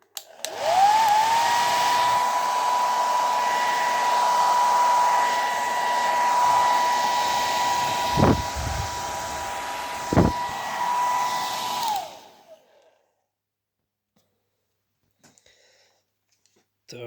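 A Rowenta hair dryer under minor repair runs steadily for about twelve seconds, a loud close broadband blowing roar with a constant motor whine, interrupted by two brief knocks, then cuts off abruptly into near silence.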